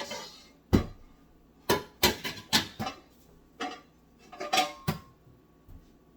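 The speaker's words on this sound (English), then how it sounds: "So I'm removing the pans. I have some pans here, I have others there, but there's a particular one that I want." Cooking pans are lifted out and handled in a kitchen, giving a series of sharp metallic clanks and clatters in irregular bursts, close and fairly loud, with quiet gaps between them and no voices.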